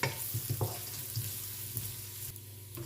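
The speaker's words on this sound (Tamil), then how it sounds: "இப்போ வடகம், காஞ்ச மிளகா, பெருங்காயம் எல்லாமே தாளித்து கொட்டிடுவோம்" Vadagam, dried chillies and asafoetida tempering in hot oil in a kadai: a close, steady sizzle with several soft taps and small crackles over a low background hum.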